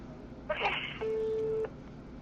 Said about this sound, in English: Somebody's phone is not muted.